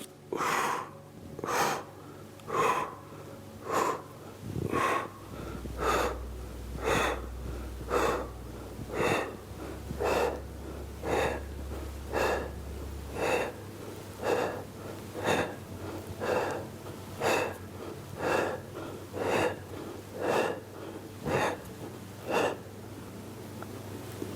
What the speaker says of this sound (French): on souffle sur la montée et on inspire sur la descente